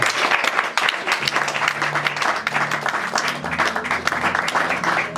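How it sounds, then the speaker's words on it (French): A church congregation applauds steadily for the full length, a dense, continuous wash of clapping with sustained low musical tones running underneath. "Est-ce qu'on peut encore acclamer pour leur présence?"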